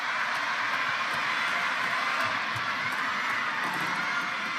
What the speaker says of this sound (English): This CHONGQING crowd are trying to rally their man because he is now facing a game point